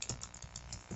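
A computer keyboard is typed on while a web address is entered, giving quick, irregular soft key clicks close by over a quiet background.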